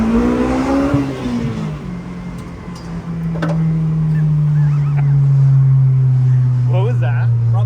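Honda S2000 engine revving after being repaired, climbing to a loud sustained high drone that holds steady near the microphone, with brief ticks and voices over it.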